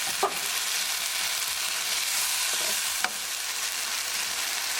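Green chili, onion and tomato sabzi cooking in an open pan, giving a continuous, even sizzle with a couple of brief stirring clicks, close and steady with no talking.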